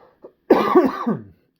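A single harsh cough, close and loud, preceded by a couple of tiny throat sounds.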